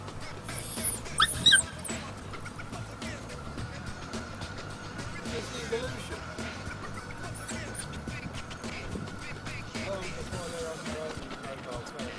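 A dog whimpers and yips in short bursts early on, then stays quieter under steady talking for the rest of the stretch.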